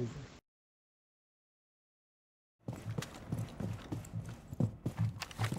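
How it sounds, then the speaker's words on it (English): Footsteps thud on the floor above in a steady walking rhythm, starting after a long gap of silence and carrying on irregularly at moderate loudness, with no speech. "I hear footsteps upstairs"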